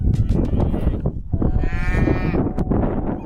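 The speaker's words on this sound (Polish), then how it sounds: "Mała krowa się zgubiła." A small lost calf in a forest calls out in loud, close bleating cries, two drawn-out wavering calls separated by a brief pause, with rustling around them.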